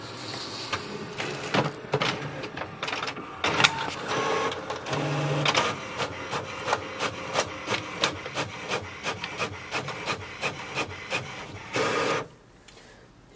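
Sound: HP Envy 6230 printer making a copy

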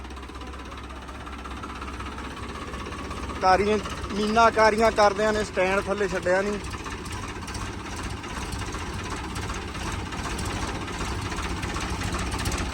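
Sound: tractor engine idling

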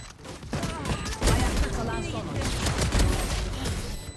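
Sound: gunfire in the video game Valorant

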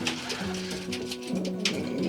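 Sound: pigeons cooing in loft

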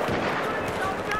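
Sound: pistol shots in the video game Battlefield 4

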